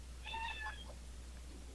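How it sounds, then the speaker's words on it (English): A domestic cat gives one short, faint meow at a distance, rising briefly over a low steady hum, then fading back to quiet room noise. "Sounds like somebody's cat."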